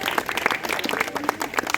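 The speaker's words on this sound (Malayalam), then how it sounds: "നമുക്ക് അവർക്കൊരു നിറ കയ്യടി കൊടുത്താലോ?" An audience at a Christmas night program claps in dense, continuous applause, with many hands overlapping at a steady level throughout.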